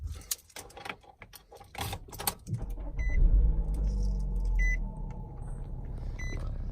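A 2018 Nissan Rogue S with charcoal cloth interior is push-button started: key jingles and clicks come first, then a low engine hum settles in with a few soft cabin chimes.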